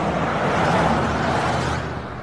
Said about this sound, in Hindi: वाहनों के चलने की ध्वनिया